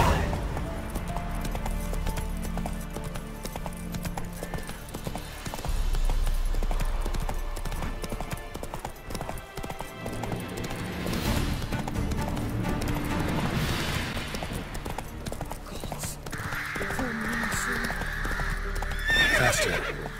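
A horse gallops with rapid clip-clop hoofbeats and neighs loudly near the end, the whinny standing out over continuous hooves; a voice can be heard at times.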